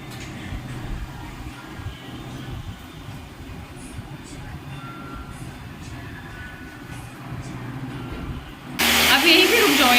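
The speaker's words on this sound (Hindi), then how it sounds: "जो यहाँ पे एसी लगाने के लिए होल हो रहा है उसका साउंड है" A drill boring a hole through a house wall to fit an air conditioner, a steady grinding drone heard under people talking, ending in a sudden louder, harsher burst.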